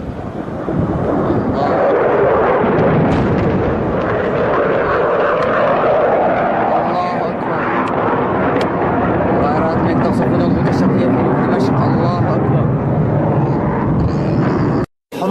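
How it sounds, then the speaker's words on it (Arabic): A MiG warplane roars over a Syrian neighbourhood during a 2016 airstrike with vacuum bombs, a loud, sustained jet roar and rumbling blasts that cut off abruptly near the end, with voices shouting. "قذائف فراغية من طائرات ميك."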